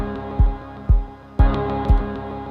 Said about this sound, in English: there's like a kick drum and that sounds like this